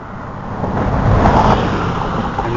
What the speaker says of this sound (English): And there's a lot of morning traffic crossing the bridge.